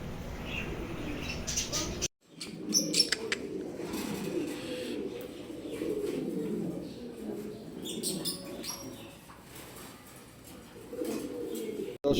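Pigeons at a crowded pigeon market give low, repeated coos and occasional chirps under steady crowd murmur and voices, with a short silent gap early on.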